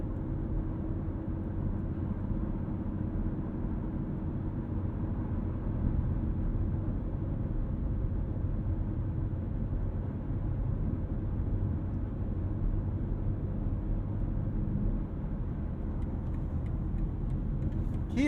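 Inside a 2023 BMW M3 Competition xDrive cruising on the road, a low steady cabin rumble of tire and road noise holds at a soft, even level for the whole stretch, no one speaking.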